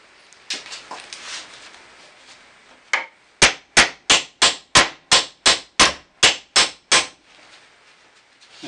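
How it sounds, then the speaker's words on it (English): A hinge pin is pounded through a 1967 Mustang lower door hinge: some brief scraping and taps, then about eleven loud, evenly spaced hammer blows ringing close up, followed by quiet. "So now we can just pound it the rest of the way through."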